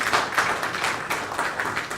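An audience at a university opening ceremony claps for the Provost of Ibadan, a brief scattered round of applause from many hands at moderate distance, faint and even.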